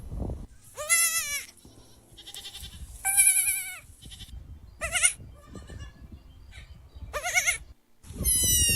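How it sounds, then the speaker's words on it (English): Several goats bleating in repeated, whiny calls, each a wavering cry that breaks off before the next begins, close and loud over low background rumble, with no talking. "It's like the same 4 goats over and over again, but like it never gets old."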